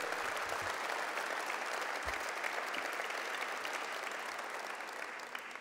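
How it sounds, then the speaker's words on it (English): An audience at an MTA Genius Transit Challenge opening event in New York applauds steadily, a dense wash of clapping from a large crowd that continues evenly and fades slightly toward the end. "But let's give them a round of applause for coming from around the world."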